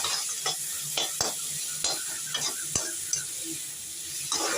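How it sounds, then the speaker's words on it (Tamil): Onion, garlic and squeezed tomato sauté in a pan for garlic kuzhambu, with a steady sizzle of frying under repeated sharp scrapes and clicks of a spoon stirring against the metal. "பிழிஞ்சு போட்டு எல்லாத்தையும் ஒன்றா கலந்து நல்லா இந்த மாதிரி வதக்கணும்"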